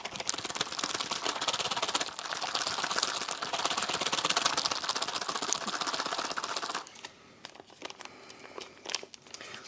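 A sealed, folded US Army First Strike Ration pouch being shaken: about seven seconds of steady, dense rustling and crinkling close by, followed by softer, sparser crinkles and taps as the shaking eases.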